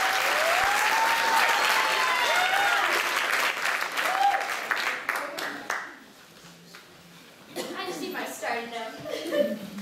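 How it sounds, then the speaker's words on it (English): Coffeehouse audience clapping and cheering loudly after a performance, with whoops over the applause, then it fades and a second burst of clapping rises near the end. "Let's give her a big round of applause."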